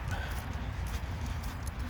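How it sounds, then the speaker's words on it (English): Faint clip-clop of horses' hooves walking on a hill after rain, muffled under steady background noise. "Get past these horses."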